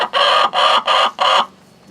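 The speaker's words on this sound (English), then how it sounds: "We got 2 chickens trying to be on the same nest." Four loud, rapid clucks from a nearby chicken in an even burst as two hens compete for the same nest, followed by quiet.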